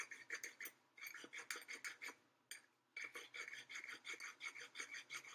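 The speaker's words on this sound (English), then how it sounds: "Let's grind this up." Dry herb ground in a hand grinder: a rapid run of rhythmic scraping, crunching twists, close and fairly quiet, with one brief pause midway before the grinding resumes.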